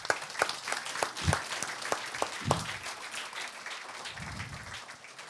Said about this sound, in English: A huge round of applause, guys, for that